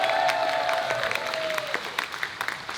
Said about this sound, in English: a nice round of applause for your cruise director